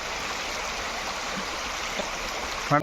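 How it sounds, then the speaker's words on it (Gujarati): Water of the Utavali river flowing, a soft, constant rushing and gurgling that stays even and fairly faint throughout, with no voices. "જો આ છે ઉતાવળી નદી"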